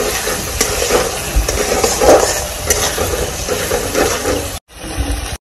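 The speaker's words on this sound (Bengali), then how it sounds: "গ্যাসটাকে লো ফ্লেমে দিয়ে একটু ভালো করে কষিয়ে নিব গ্রেভিটাকে।" Jackfruit and shrimp curry gravy sizzles steadily in a pan over a low gas flame while a spoon stirs it, with scraping strokes through the frying; near and fairly loud, with a brief break near the end and no talking.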